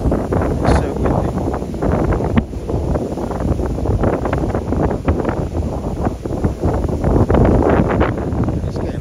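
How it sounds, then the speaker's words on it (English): Strong gusty wind at a seaside restaurant in Valencia, a loud roaring buffet battering the microphone with low rumbling surges and brief dips, near and continuous. "It's getting up again now, the wind."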